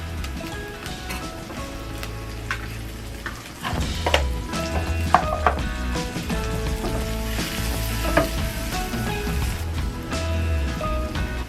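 Onions and a knob of butter sizzle in a frying pan, a continuous close crackle and hiss with occasional scraping stir strokes and clinks, growing a little louder partway through.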